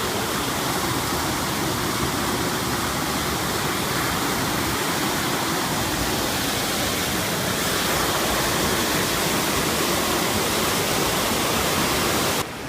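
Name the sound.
rushing water at the Basin, Franconia Notch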